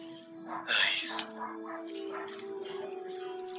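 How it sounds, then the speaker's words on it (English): Pet dog barks a few times nearby at a house, short muffled yaps followed by a softer whimpering tone, heard under ongoing game audio with a steady background hum. "I don't even know what she's barking at."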